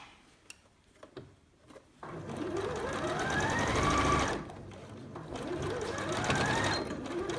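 A sewing machine stitching a fabric mask, starting with a few light clicks and handling noises, then running in two steady whirring bursts with rising motor pitch, close and clear, separated by a brief pause.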